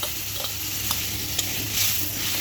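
Spices sizzle loudly in a hot pan while a spoon stirs them, adding a few light scraping clicks over the continuous frying hiss.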